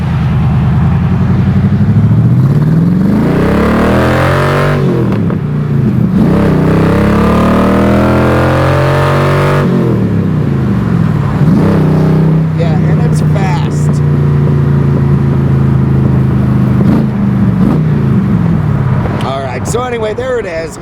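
A Shelby Cobra replica's engine revs loudly and close up, the V8 roaring in repeated rising and falling sweeps as it accelerates and shifts, with someone talking over parts of it.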